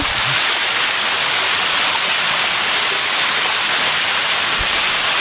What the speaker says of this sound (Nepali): अब झर्नै यत्रो रहेछ